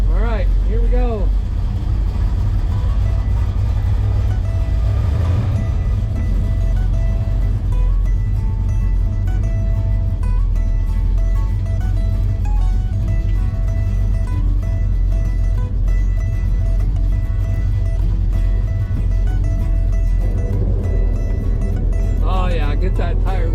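A 1979 Chevrolet El Camino with posi rear end and manual valve body drives on the road, its engine a steady loud low rumble throughout, with a brief louder surge partway and some cabin noise under it.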